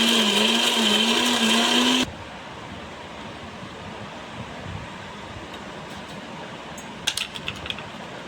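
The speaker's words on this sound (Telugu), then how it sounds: "పాలు కాంచి దీన్ని కూడా దీంతో వేసి బాగా మిక్సీ పట్టుకోవాలి అన్నమాట." A mixer grinder blending khoa with milk whirs loudly and steadily for about two seconds, then cuts off, leaving quiet room tone with a few faint clicks and knocks.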